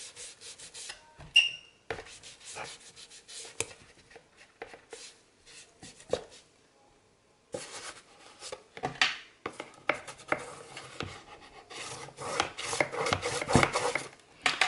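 Paper edges glued onto a photo album structure are pressed down and rubbed by hand, giving soft scratchy rubbing and scraping strokes in irregular bursts, with a quiet pause in the middle before denser rubbing resumes.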